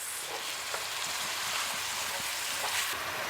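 Meat for a Bolognese sauce browns in a hot pan with red pepper flakes, giving a steady, crackling sizzle, close and moderately loud, with faint pops and a few light stirring knocks.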